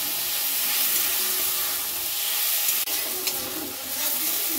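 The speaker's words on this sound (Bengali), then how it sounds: "লটিয়া মাছটা মশলার সাথে কষিয়ে নেব।" Lotia fish pieces being sautéed with spice paste in a pan, which gives a steady close sizzle of frying, with soft stirring scrapes and a few brief clicks, all without voices.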